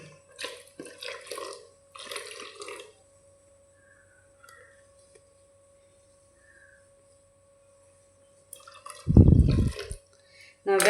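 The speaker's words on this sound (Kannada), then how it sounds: "ನಾವು ಮಾಡಿಟ್ಟಂಥ ಗ್ರೇವಿಯನ್ನು ಹಾಕುವ" Thick mackerel gravy poured into a pan of half-cooked mackerel, heard as a short loud splashing burst near the end after stretches of speech and quiet kitchen sounds.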